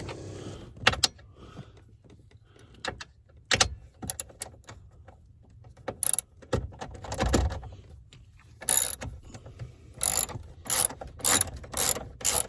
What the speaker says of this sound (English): there's 4 bolts that you unscrew to drop this shaft, that steering column